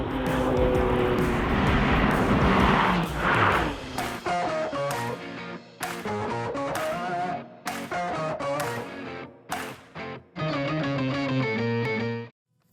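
A Honda NSX sports car on a drive, its engine revving up and dropping through gear changes with brief lifts off the throttle, loud and close throughout with no talking.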